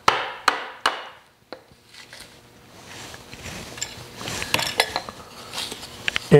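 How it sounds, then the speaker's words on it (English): Three sharp hammer taps on a chisel set in a paper glue joint ring out at the start, followed by scraping, rubbing and clattering as wooden pieces shift on a bench, close by. "tap it with a hammer"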